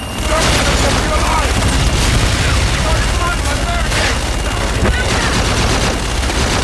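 Aircraft guns rake a target in Call of Duty Infinite Warfare as a loud, continuous roar of rapid fire and booming impacts that runs without pause.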